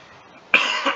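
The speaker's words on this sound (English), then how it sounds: "I still have that cough" A single sharp, close cough from a person who has had a lingering cough, bursting out loudly after a moment of near silence and trailing off with a second smaller push of breath.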